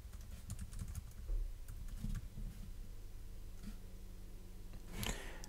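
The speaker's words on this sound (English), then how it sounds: "we're just going to type a password in." Fast, irregular clicks of a computer keyboard as a password is typed, close and fairly quiet over a low steady background hum, with a short burst of quicker taps near the end.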